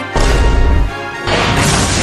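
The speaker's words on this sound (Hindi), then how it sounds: "पानी की टंकी टूट गया" A cartoon water tank smashes and breaks: a loud crashing burst, a brief drop, then a second sustained surge of noise, with no voices over it.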